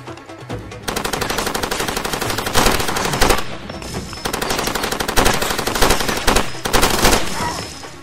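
Loud, sustained automatic gunfire from the video game Far Cry 2, rapid bursts rattling almost continuously with brief pauses between volleys and a few sharper single shots, no talking over it.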